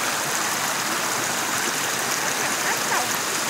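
A waterfall gives a steady broadband rush of falling water, constant and fairly loud throughout the short stretch.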